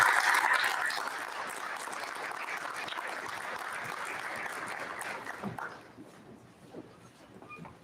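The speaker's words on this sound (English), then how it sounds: "I'll just ask for one more round of applause for our students" An audience in a school board meeting room applauds for students, loud at first and then settling into a softer, steady clapping that fades out near the end, with faint voices mixed in.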